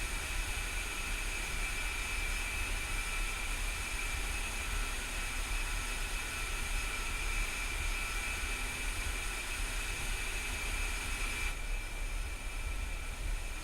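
An A-10 jet aircraft's engine runs while taxiing, a steady broadband roar with a constant high whine, unbroken and even in loudness throughout, with no one talking.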